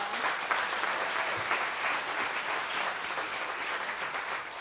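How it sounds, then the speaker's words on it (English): A concert audience at an evening of Disney classics applauds the teachers who organized the show, a steady, even wash of many people clapping from across the room, sustained at moderate volume with no break. "can we just give a round of applause to all the teachers who put this whole thing"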